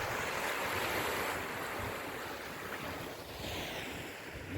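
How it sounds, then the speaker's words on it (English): Sea waves wash against the flat rock slabs and cliffs of the coast at Wick, Scotland, a broad continuous surf roar with gusting wind buffeting the microphone, no voices present. "Then we've got the sea."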